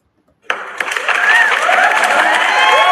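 Clapping and cheering from a crowd swell in abruptly after a brief silence, a dense, steady wash of applause that holds loud to the end.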